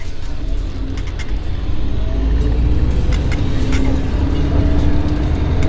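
Coupe driving on the road just after a wheel alignment: steady engine and road rumble, close and loud, swelling slightly as it picks up speed, without talk.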